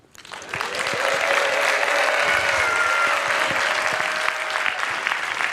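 A TEDx audience of about 1000 people bursts into loud, sustained applause that swells quickly and holds steady as a dense wash of clapping, with a few scattered voices in the crowd.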